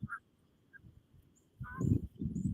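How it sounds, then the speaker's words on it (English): Geese honk as they fly overhead at an outdoor open-fire cooking spot at night, a few nasal calls at first, then a louder cluster of honks over rumbling background noise. "After the geese going over"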